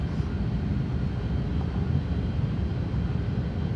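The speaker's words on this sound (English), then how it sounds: "Reversers come online" Steady loud roar of thrust reversers on an Embraer E-195 landing rollout in the X-Plane 12 flight simulator, a dense low rumble holding evenly throughout.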